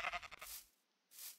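Sheep in Minecraft bleat twice, a short near cry followed by another after a brief pause, clear and alone.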